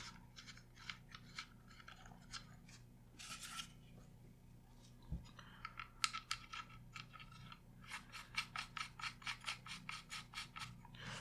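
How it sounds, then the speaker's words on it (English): A wrench snugging a threaded barrel onto a Sig P322 .22 LR pistol, quiet rapid ratcheting clicks in bursts with short pauses and a faint thump midway. "We're just going to take a wrench here and we're going to give it just a little bit of a snug tight on there."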